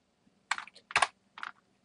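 A few close computer keyboard key presses in an image editor, the Shift+Backspace shortcut, as three short clicks in quick succession in a quiet room.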